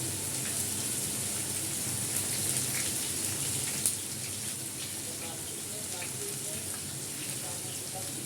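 Chopped potatoes and green chillies frying in a pan, with a steady, dense sizzle that holds at an even level throughout, like light rain, and a single brief clack of the pan partway through.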